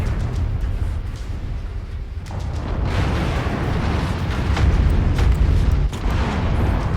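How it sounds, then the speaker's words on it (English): An ammo explosion inside a mech in the MechWarrior 5 video game rumbles as a loud, dense roar of blasts and booms that carries on for several seconds with crackling bursts throughout. "Ammo explosion."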